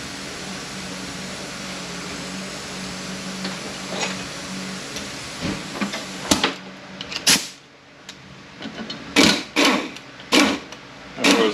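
A 10 mm bolt being worked out of a disassembled Mercedes 722.118 transmission: faint ratcheting ticks at first, then a series of sharp close metallic clicks and clacks with pauses between.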